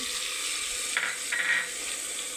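Ground spices with ginger-garlic paste, chili powder, coriander powder, turmeric, salt and coconut powder frying in a pan on low flame for a capsicum and green pea curry, giving a steady soft sizzle with a couple of brief stirring scrapes.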